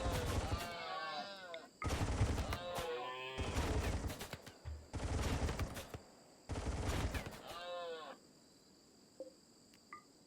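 Gunfire rings out in the video game Rimworld as colonists shoot alpacas, with bursts of shots, strained animal cries and loud game effects spread across the scene.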